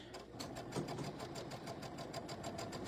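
A sewing machine stitches fabric for a tabletop banner, a brief run of fast, even needle pulses with a motor hum underneath, close and moderately loud.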